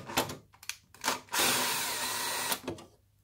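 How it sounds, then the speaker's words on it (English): A power driver whirs in short bursts and then one longer sustained run while a screw is backed out of the side of an Akai sampler's chassis, close up and fairly quiet. "there's a screw on the side of the chassis. This has got to come out as well."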